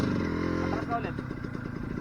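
A trail motorcycle engine idles and chugs unevenly as it backs up on a muddy trail in Bulacan, loud and close, with a rough pulsing rhythm throughout and people talking over it.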